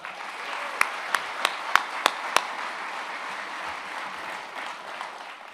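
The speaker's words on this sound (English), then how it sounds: "How about a round of applause for the voice of the Badgers?" Audience applause at the Wisconsin Badgers press conference introducing Luke Fickell as football coach: a steady wash of clapping across the room, with a few sharp, close individual claps standing out early on.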